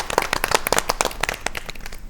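Audience clapping for a woman poet at a women's poetry gathering, a steady patter of many hands through the whole stretch, moderately close with no voices over it.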